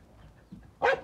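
A Bac Ha native Vietnamese dog gives a single loud, sharp bark near the end, following a second of near quiet.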